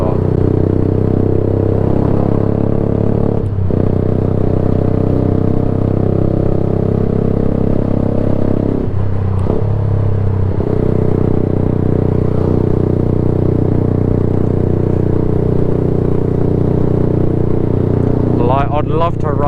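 A motorcycle ridden with its exhaust missing produces a loud, unbroken rumbling engine drone with a raspy edge and a few brief clatters over a long stretch of riding.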